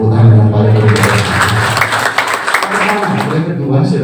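A congregation applauding during a church worship service, a broad wash of clapping that swells under ongoing voice and music in a reverberant hall.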